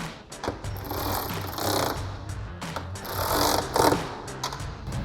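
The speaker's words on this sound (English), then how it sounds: "So we're gonna grab a ratchet, 13mm socket," A ratchet with a 13mm socket tightens the hood bolts of a Camaro fitted with a carbon fiber hood, giving rapid close clicking in repeated bursts with metallic handling noise.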